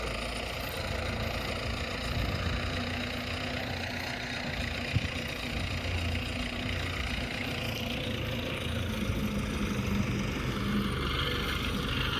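An MTZ-892 tractor engine runs continuously while pulling a PD-2.5 disc harrow, a steady low rumble with a mid-range drone that holds even throughout, no talking.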